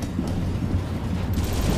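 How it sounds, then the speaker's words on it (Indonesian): Gunfire bursts in an online shooter match set aboard a moving train, a dense rumbling volley with sharp cracks that stays loud and steady across the short span without any voices. "kita terkena tembakan musuh, guys"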